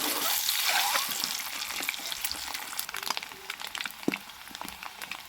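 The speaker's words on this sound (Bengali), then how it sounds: "এবার ডিমগুলো আমি ভালোভাবে ভেজে তুলে নেব।" Eggs fry in hot oil for an egg curry, giving a steady close sizzle with scattered small crackles and pops throughout, no talking over it.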